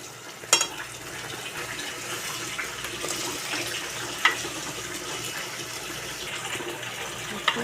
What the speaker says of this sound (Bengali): আমি এখন এর মধ্যে পাকনাগুলো ধুয়ে রাখছি, এগুলো দিয়ে দেবো।